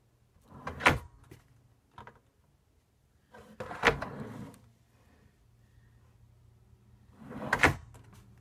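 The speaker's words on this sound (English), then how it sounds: "when you push them shut, they automatically close" Large drawers being pushed shut and self-closing, three separate soft thuds and slides spaced a few seconds apart, close and fairly quiet in a workshop room with low background hum.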